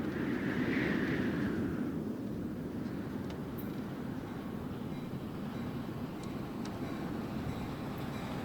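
Train in the video game World of Goo 2, a steady low rumbling roar with a fading whine early on, continuous and fairly loud throughout.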